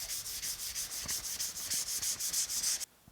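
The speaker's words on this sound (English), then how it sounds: "I'm going to go ahead and get the rest of this sanded up" Hand sanding the hood of a 1950 Chevy truck with 120-grit sandpaper on a foam block: rapid, even back-and-forth rasping strokes in a steady rhythm, close and bright, stopping abruptly near the end.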